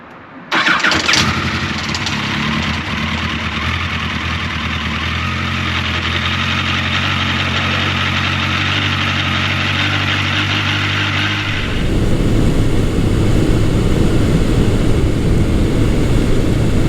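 A Yamaha FJ1200 motorcycle engine cranks and catches, then settles into a loud, steady idle close by, with a rougher, louder rise in the running sound near the end.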